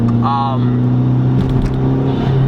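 A 2005 Volkswagen GTI's turbocharged front-wheel-drive engine pulls hard under boost, a loud, rising engine tone with a steady low drone heard from inside the car, with someone talking over it.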